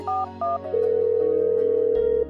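A phone being dialed in a Telugu film: two short keypad tones, then a steady ringback or dial tone that holds for over a second before cutting off.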